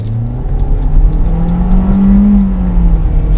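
Kia Forte pulling away from a stop sign with a little gas, engine note rising steadily in pitch as it accelerates, loud and continuous with a low rumble underneath.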